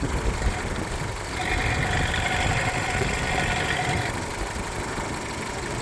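A Volkswagen Golf's 1.6-litre 16-valve engine idles steadily with a low, even rumble and slight vibration, close by and continuous, with no talking.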